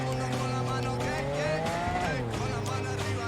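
Engine of a car in the video game Cyberpunk 2077 revving, rising and then dropping in pitch with a brief tire squeal, loud and continuous over steady road noise.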